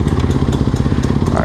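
A Honda CRF450R dirt bike engine starts on its electric starter and settles into a steady, close, rumbling idle with even pulsing beats and no talk over it.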